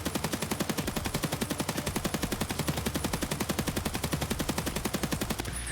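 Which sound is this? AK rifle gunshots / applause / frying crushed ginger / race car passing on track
AK rifle gunshots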